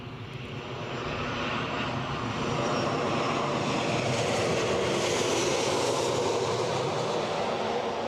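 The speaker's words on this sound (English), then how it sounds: "Right, I can hear a 737." A Boeing 737 jet at Newcastle airport roars steadily as its engines build up to a loud, sustained broadband rush at the runway.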